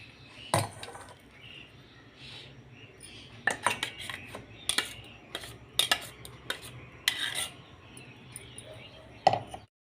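Radish-leaf paste is scraped and spooned into a vessel, with soft intermittent clinks and taps of metal utensils against the container breaking a quiet background.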